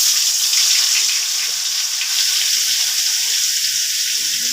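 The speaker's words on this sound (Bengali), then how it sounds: "রসুন দিয়ে দিচ্ছি বাটার।" Garlic and butter fry in a pan of leftover shallow-frying oil, giving off a loud, steady hiss that continues without a break.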